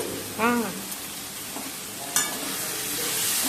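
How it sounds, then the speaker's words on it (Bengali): Mutton frying with grated ginger and ground dried chilli in a pan gives a steady close sizzle, broken by two brief scraping strokes of a utensil stirring, with no talk. "ভালো করে নাড়াচাড়া করে নিলাম"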